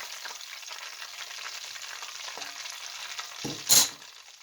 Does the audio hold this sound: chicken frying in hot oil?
yes